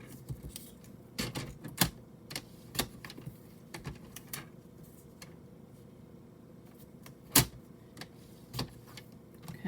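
Paper strips three-quarters by two and three-quarter inches being cut for the sides of a decorated card box, heard as sparse, sharp clicks and snips spaced irregularly, close by, with no talking.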